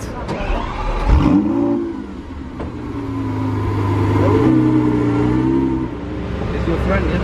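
Lamborghini engines in a six-car convoy rev and pull away in Monaco, a sharp rising roar followed by sustained loud revving under nearby talk.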